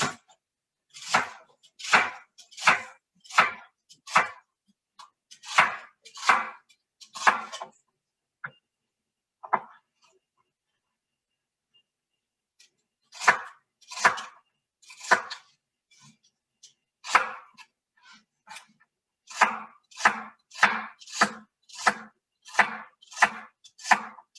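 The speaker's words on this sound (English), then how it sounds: "I'm going to cut it rather thin." A knife thinly slicing vegetables on a cutting board, crisp rapid chops in bursts of several strokes separated by brief pauses, close and clear with no talking.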